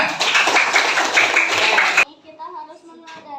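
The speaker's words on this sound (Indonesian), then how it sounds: "Oke, sekali lagi tepuk tangan untuk semuanya." Schoolchildren in an elementary school class clap together for about two seconds in a dense, lively burst, then it stops abruptly and a voice speaks over quieter room sound.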